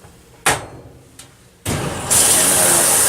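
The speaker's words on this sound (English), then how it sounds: "I do a cold wash. Make sure I set that to cold. Just a quick wash, a quick rinse, and a spin." A washing machine set to a quick cold wash starts up: a couple of knocks, then a sudden steady rush of water filling the drum with a bright hiss on top. The sound is loud and close, and no one speaks.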